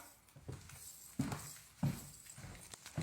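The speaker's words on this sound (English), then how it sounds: "Somebody knocking?" Someone knocks on a door in a room: a few dull, spaced thuds land against a quiet background, heard slightly distant.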